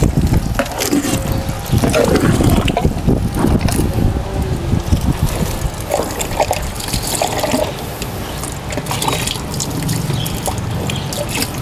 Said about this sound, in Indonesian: Nah ini kita kasih air.